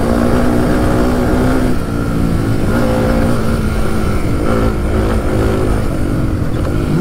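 A Suzuki DR 350 enduro motorcycle ridden on the road, its engine droning loud and close without a break, with slight shifts in pitch as the throttle changes.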